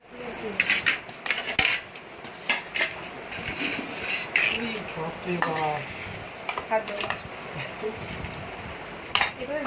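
A biryani cooking pot being opened and served from produces irregular metallic clanks, knocks and scraping of a serving utensil, close by, while people talk in the background.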